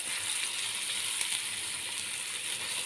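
Sliced onions softening in a pot for a one-pot Saudi kabsa, giving a steady, fairly loud hiss of frying with no voice over it.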